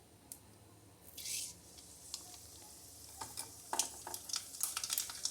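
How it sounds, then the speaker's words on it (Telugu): Mustard seeds crackle and sizzle in hot oil in a pan for a Telugu bendakaya fry, scattered sharp pops growing busier toward the end, faint and close with no talk. "ఆయిల్ హీట్ అయిపోయిందండి. ఆవాలు వేసుకుందాము."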